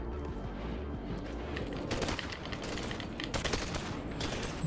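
Dual Glock pistols fire in the VR game BONELAB, a rapid, busy stream of shots over constant background noise, growing denser in the second half.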